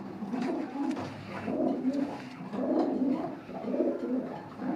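Pigeons kept in a coop coo in repeated deep, throaty rolling phrases, close and clear, about four swelling calls in a row with no talk.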